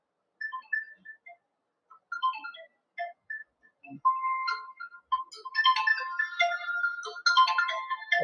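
A mobile phone ringtone plays a bright electronic melody, starting with sparse notes and building into a fuller, louder tune, alone without speech.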